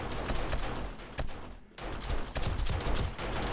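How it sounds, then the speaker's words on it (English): Automated defensive turrets fire nonstop during a day-700 blood moon horde in the game 7 Days to Die, with dense rapid gunfire bursts that break off once briefly and then resume at full intensity. "the turrets are doing all the work right now"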